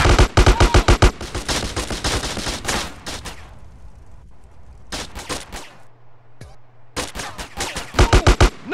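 Rapid bursts of gunfire from GTA San Andreas on Android/iOS, loud volleys at the start and end with scattered single shots between, a low engine-like hum underneath.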